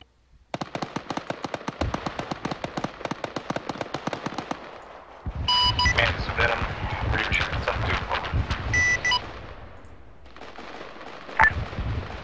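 A .50 caliber machine gun firing in a video game: a long rapid burst of sharp, evenly spaced shots, then heavier booming fire with rumbling echoes, and a final loud blast near the end.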